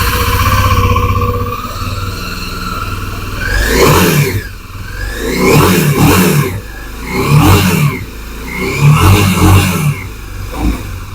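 A Kawasaki Ninja 250 motorcycle engine starts and is revved repeatedly, about four loud rising bursts at regular intervals after a steady idle, close by.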